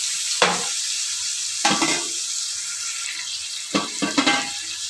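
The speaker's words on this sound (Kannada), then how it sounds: "ಟೊಮ್ಯಾಟೊ ಆನಿಯನ್ನು ಎಲ್ಲ ಒಟ್ಟಿಗೆ ಚೆನ್ನಾಗಿ ಸ್ವಲ್ಪ ಸಾಫ್ಟಾಗೋವರೆಗೆ ಮಿಕ್ಸ್ ಮಾಡೋಣ" Tomato and onion frying in a pan are stirred in three or four brisk scraping bursts over a continuous close sizzle, with no voices.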